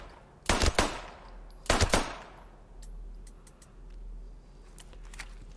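Two close, sharp bursts of pistol fire ring out in the Post Scriptum video game, each a quick cluster of loud cracks, followed by quieter ambient rumble and faint distant clicks.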